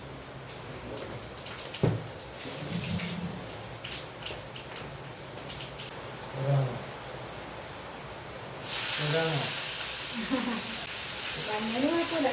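Tap water runs onto fresh, rain-wet curry leaves in a home kitchen, a steady broadband hiss that begins partway through after quieter handling and speech, then continues loud with a voice talking over it.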